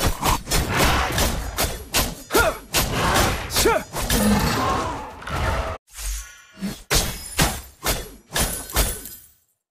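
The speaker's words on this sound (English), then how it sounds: "Your team destroyed a turret!" A turret being destroyed in a video game: a rapid series of heavy thuds, whooshes and shattering impacts, loud and close, followed by a brief pause and more punchy hits.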